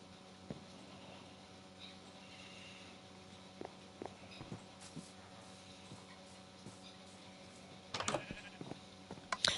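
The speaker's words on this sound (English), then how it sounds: "Now there's the sheep we need" Sheep bleat in the Minecraft survival game, a few short bleats scattered over a quiet background with a louder cluster near the end, alongside faint game noises and footsteps.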